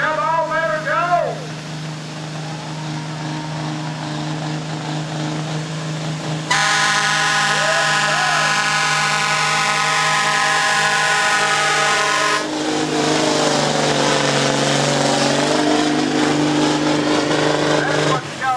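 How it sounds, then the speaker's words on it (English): At a county fair truck pull, a semi truck engine roars loudly and steadily, its pitch shifting as gears change, while an announcer talks over a public address system. "That's what you call good old-fashioned gear jamming right there"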